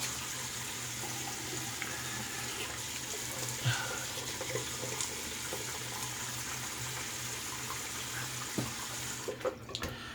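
A bathroom tap runs into a sink before a shave, a steady close splashing stream of water that continues without a break, with a few light clatters near the end.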